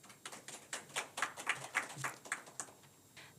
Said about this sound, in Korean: 다 같이 뜨거운 환영의 박수 부탁드리겠습니다.